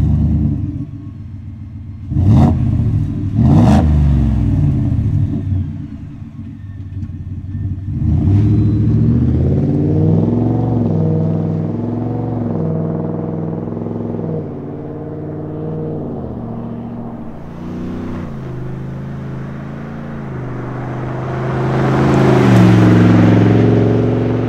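A Ford F-150 5.0 V8 fitted with an MBRP sport exhaust revs several times, sharp throttle blips early on, then a deep rumbling drive with engine pitch rising and falling through shifts and a louder surge near the end.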